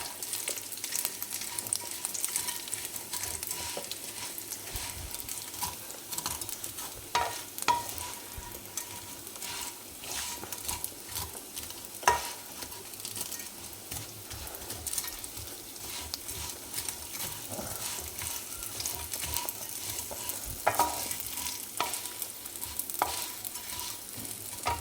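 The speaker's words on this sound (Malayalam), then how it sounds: "സേമിയ നമുക്ക് വറുത്തെടുക്കണം നെയ്യിൽ." Vermicelli frying in fresh ghee gives a soft, continuous sizzle, with repeated light scraping and clicking from stirring scattered throughout, fairly quiet and without speech.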